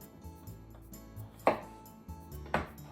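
A knife slices through vegetables for a Japanese dashi-braised chicken and vegetable pot-au-feu, two sharp, close chops on a board about a second apart over a low kitchen hum.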